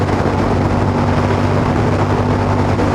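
A Royal Enfield Super Meteor 650 motorcycle engine drones steadily while overtaking in sixth gear, its low even hum loud and constant and mixed with rushing wind.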